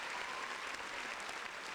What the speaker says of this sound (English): Round of applause for Lizzie.